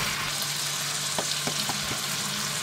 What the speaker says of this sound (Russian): Обжариваем примерно минутки две до прозрачности